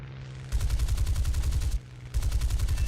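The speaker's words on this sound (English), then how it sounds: "As you saw, 4 cannons. That's the Hispano Mark V cannon" Four Hispano Mark V aircraft cannons on a fighter in War Thunder fire in two long, rapid bursts, a loud pounding stream of shots with a brief pause between the volleys and no speech.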